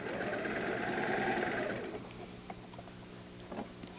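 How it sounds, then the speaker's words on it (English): Sewing machine runs steadily for about two seconds, stitching along lined-up fabric edges to the end, then stops, leaving quiet handling noises and a few soft clicks. "Line up the edges of the fabric. And sew right to the end."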